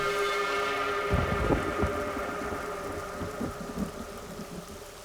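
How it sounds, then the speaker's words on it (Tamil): Heavy rain pours steadily in a Tamil thriller film scene, a dense constant hiss with low thunder rumbling in several rolling pulses, close and loud with no talk over it. "இவ்வளோ நல்லா மழை பெஞ்சிட்டு இருக்கிறதால"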